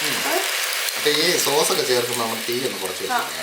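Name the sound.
soy sauce poured into a hot pan, sizzling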